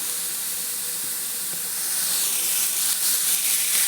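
Green beans frying in oil for a North Karnataka–style palya give off a steady, close hiss of steam and sizzle that grows slightly louder toward the end, with no voices.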